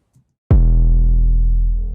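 A single loud 808 bass note with added harmonics and distortion from Serum's effects section hits sharply and sustains with a rich, gritty mid-range tail, decaying slowly, heard alone after a brief faint tick.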